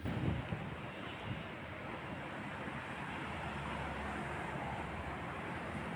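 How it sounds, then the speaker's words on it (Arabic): High storm waves surging against the shore along the Alexandria seafront, a constant dense roar of surf mixed with wind buffeting the microphone, steady and unbroken. "الموج عالي جدا وسريع جدا بيخبط"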